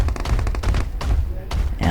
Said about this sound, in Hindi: फायर किया किसी ने।